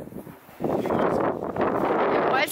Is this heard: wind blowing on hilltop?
yes